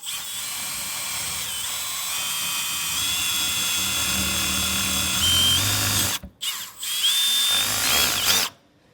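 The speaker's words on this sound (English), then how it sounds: "we can just go ahead and drill on through" A power drill bores steadily through an RV door, a loud continuous whine that holds for about six seconds, briefly cuts out, then revs again before stopping.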